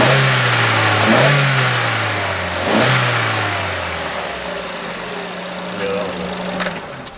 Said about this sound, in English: we're just going to give it a little rev, just so if there's any actual difference in the noise